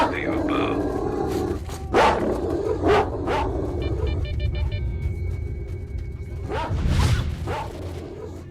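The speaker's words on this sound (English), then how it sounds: "Those dogs don't really roam too far outside of their territory very much." Dogs barking in the video game STALKER: Shadow of Chernobyl, several short bursts spread through a noisy in-game scene with a steady background bed and a louder cluster near the end.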